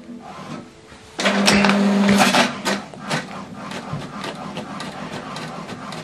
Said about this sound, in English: Now this document is going to print colored.